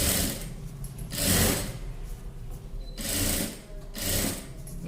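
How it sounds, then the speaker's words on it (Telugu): Sewing machine stitching a round neck design on an everyday dress: close, rapid mechanical rattling in three or four bursts separated by quieter pauses, with no voice over it. "ఇదిగోండి ఇలా మొత్తం రౌండ్గా ఇదంతా కూడా ఇలాగే స్టిచ్చింగ్ చేసుకుంటూ రావాలి"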